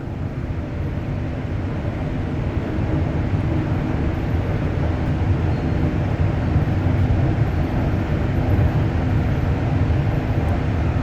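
REM light rail train riding from Brossard toward Central Station, a steady loud rumble and rolling roar from inside the car with no break and no talk.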